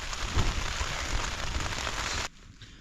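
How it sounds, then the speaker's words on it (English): Light rain pattering on a tent while wild camping in the Glyderau, Snowdonia, a dense close hiss of drops that cuts off abruptly near the end, leaving a faint quiet background. "So the rain's eased off now. It's just spitting a bit."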